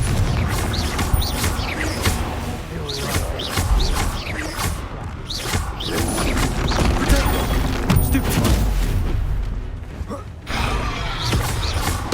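A Confringo fire spell explodes during a battle in the video game Hogwarts Legacy, a loud booming blast within dense, creaking, crashing combat effects, with voices heard in the scene.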